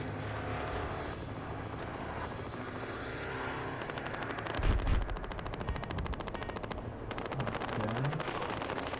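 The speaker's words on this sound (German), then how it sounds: "Da wird scharf geschossen irgendwo" Sustained automatic gunfire in the multiplayer shooter Battlefield Hardline, fast rattling bursts that build toward the end, with a heavy rumbling boom partway through and distant aircraft-like drone beneath.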